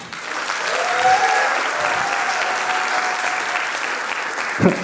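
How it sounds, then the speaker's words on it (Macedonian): Audience applause at a live stand-up comedy show in Skopje, a loud sustained burst of clapping from the crowd that swells and then fades, ending with a sharp bump. "Аплауз да видам скопјани само."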